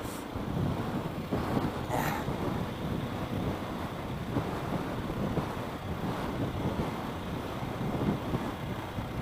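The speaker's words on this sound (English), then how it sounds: "that wind is bitter" Strong, bitter wind blowing outdoors during a muddy ride on a KTM 690 motorcycle, a steady, fairly faint roar with microphone buffeting throughout and no speech.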